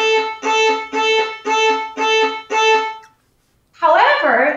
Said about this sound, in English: often the staccato stroke is taught as an interrupted détaché